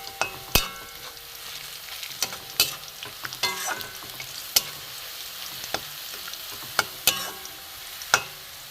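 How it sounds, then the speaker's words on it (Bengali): Sliced onions fry toward browned birista in hot oil for duck egg korma, a constant crackle punctuated by sharp clinks of a utensil stirring against the pan. "পেঁয়াজটা ভাজা হোক"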